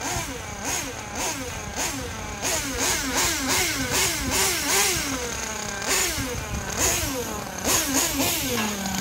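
A TG10Mk.2 nitro-engine radio-controlled car runs on a cold winter day, its small high-pitched engine revving up and down in quick repeated bursts, close and loud, with no talk.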